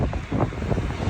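Cold, strong wind by the Gulf of Finland buffets the microphone in low, gusty rumbles with a faint wash behind, close and uneven over a brief moment.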